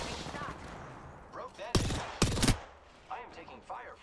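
Gunfire in the video game Apex Legends: two loud bursts of rapid automatic fire close together, surrounded by quieter distant shots and game effects, with faint talk underneath.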